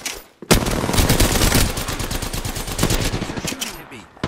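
Enemy gunfire in the video game Apex Legends: sustained rapid automatic bursts, loud and close, running almost continuously after a brief pause, with a voice talking faintly underneath.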